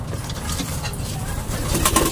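Red Devil racing pigeons coo softly in a loft, with low throaty calls and rustling close by.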